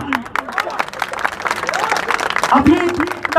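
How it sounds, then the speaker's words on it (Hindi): A crowd applauding at an open election debate in Akbarpur, mixed clapping and crowd noise with voices mingled in, growing busier toward the end. "एक बार जोरदार तालियां।"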